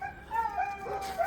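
A dog lets out a short, wavering howl close by, rising and falling in pitch with a whimpering edge.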